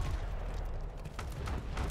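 Distant gunfire in the Delta Force: Hawk Ops video game, a dense run of muffled, rumbling shots and booms rolling through the background at a steady, moderate loudness.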